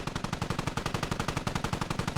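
Automatic gunfire hits a Russian vehicle in a combat video game, a fast, unbroken stream of loud shots that holds an even rhythm throughout.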